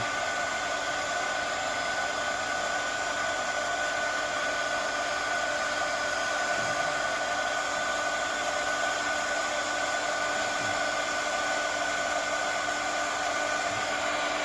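Steady, loud hair dryer blowing hot air over decorated tea bags, a constant whooshing drone with a high motor whine running unbroken throughout, no voices.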